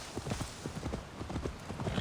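Horse hooves clip-clop in a steady rhythm on the ground in Assassin's Creed Valhalla, close and moderately loud over a light background hiss, with no talk in the clip.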